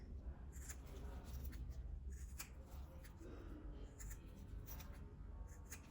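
Scissors snip away excess fabric while sewing a small ruffled zip pouch, a steady run of crisp close cuts and rustling cloth with no talking.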